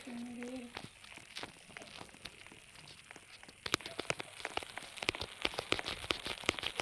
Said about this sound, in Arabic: طبعا ده صوت ضوافري